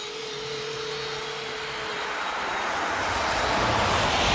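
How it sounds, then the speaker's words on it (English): Small brushless electric motors on an RC Blizzard snow vehicle running on a 2S battery whine steadily and close, the pitch and loudness climbing toward the end. "These little brushless motors, I'm liking them."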